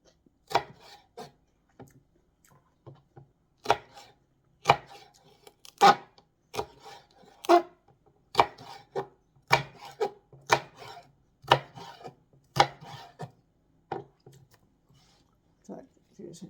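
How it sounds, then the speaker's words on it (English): Celery is chopped on a board for slow cooker chicken noodle soup, a series of sharp, fairly close knife knocks coming in an uneven rhythm with short pauses between bursts. "No, the celery."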